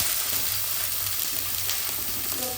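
Green chilies, garlic cloves and chopped ginger with curry leaves sizzle steadily in hot oil in a pan for an egg curry, a continuous close frying hiss with no talk.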